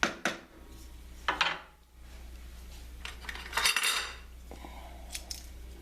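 Beef shin goes into a cooking pot for stroganoff, bringing a few clinks of utensil against metal and soft scraping and rustling at moderate, close range, with no talk.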